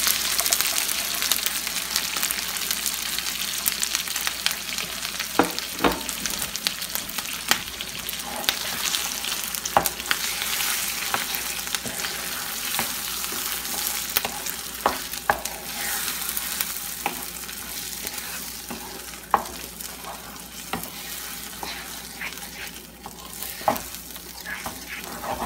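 Chorizo, diced precooked potatoes and egg fry together in a pan, giving a steady close sizzle with scattered crackles and pops throughout, no voices.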